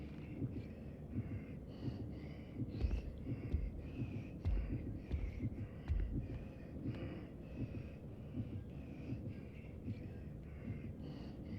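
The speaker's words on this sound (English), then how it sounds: "6's heartbeat gets faster when the enemies are closer to her" A low, muffled throbbing heartbeat from the girl Six in the video game Little Nightmares, pulsing steadily and continuously over a dull ambient hum, with no voices.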